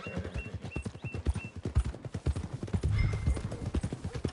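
Steady clip-clop of horse hooves walking on a path near stables in the video game Red Dead Redemption 2, a regular four-beat rhythm, close and clear over soft ambient noise.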